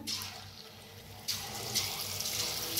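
Chana vada batter drops into hot oil, and a quiet background hiss jumps partway through into a louder, steady frying sizzle.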